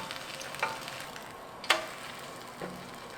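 Food frying in a dry, oil-free coated frying pan, a steady soft sizzle running throughout, broken by a few sharp clinks of a utensil against the pan, with a thud near the end.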